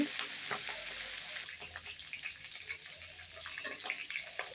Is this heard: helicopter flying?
no